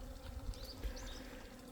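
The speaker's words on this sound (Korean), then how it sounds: "이 이동 말벌들은 배가 엄청나게 고파요." Hornets buzzing near beehives in a Korean apiary with eastern and western honeybees, a steady close drone with several insects weaving past over a low hum, no voices.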